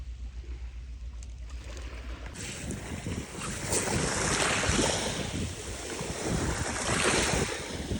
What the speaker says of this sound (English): it feels so good to be by the beach